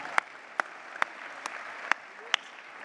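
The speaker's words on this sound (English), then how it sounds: "we are going to let you guys clap it off for these guys before they get seated here." At a sports hall-of-honour ceremony in an arts centre, a few slow, isolated claps ring out one at a time at an even pace. They are faint and sparse over a quiet room, not a full round of applause.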